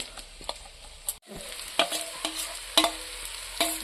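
Diced potatoes frying in a pan for a Bengali pabda fish curry, a steady soft sizzle broken by several sharp scraping stirs of a spatula, close and without talk.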